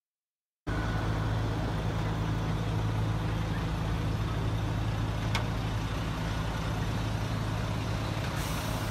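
Heavy trucks and buses carrying a migrant caravan from Honduras, heard as a steady, loud engine and road rumble with a brief air-brake hiss partway through, no talking.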